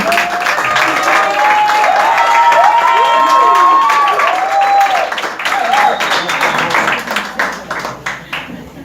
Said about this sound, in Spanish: Un aplauso, por favor, para Marielba.